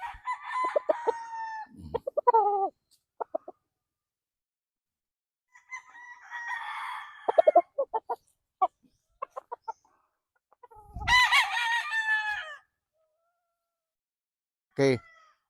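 Gamecock stags, Gary Gilliam Roundhead crosses, crow and cluck in short bursts close by, with quiet gaps between calls.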